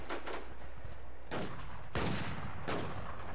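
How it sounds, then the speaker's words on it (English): Gunfire in the online shooter War Inc Battlezone, a few loud bursts of shots spaced about a second apart over a constant noisy background, with no talking. "Oh, I'm under fire."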